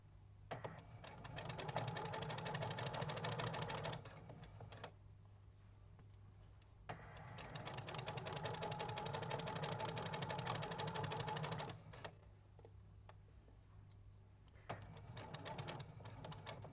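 A sewing machine runs steadily in long, even bursts with short pauses between, stitching a fabric bunting flag along its edge, close and alone with no talk.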